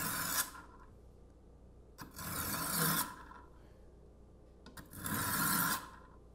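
A kitchen knife drawn through a two-stage diamond and ceramic sharpener, three separate gritty rasping pulls, each about a second long with short quiet pauses between them.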